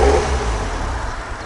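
A modified Toyota Vios with a turbocharged 1NZ engine revs loudly and close, a dense steady engine roar that eases slightly over a brief span.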